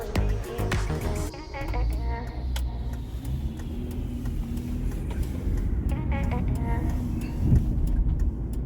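A 15-year-old Volvo XC60 car drives along, its interior filled with a low rumble of engine and road noise, with scattered clicks and a brief rising whine early on, steady and fairly quiet throughout.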